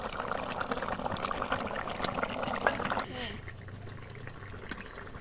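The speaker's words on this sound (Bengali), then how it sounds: "এরপরেও আরও দু মিনিট মতো একদম ফুটিয়ে নেব" Fish curry with potatoes bubbling in a pan, a steady soft boiling and liquid burble that quiets partway through, with a person talking over it.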